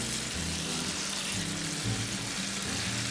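Pieces of pork deep-fry in oil in a home kitchen, giving a steady, loud hiss and crackle with a few low bubbling pops underneath.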